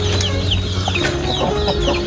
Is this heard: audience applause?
no